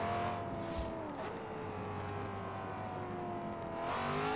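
A Corvette Z06 engine revs hard in the racing game Forza Horizon 3, a loud, steady buzzing roar climbing and dropping in pitch as it hits the red line, with no talking over it.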